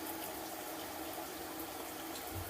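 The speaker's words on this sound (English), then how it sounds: "Then we'll turn the shower head on." A shower head runs in a bathtub enclosure, its water pouring in a steady, dense rush that stays constant and close throughout.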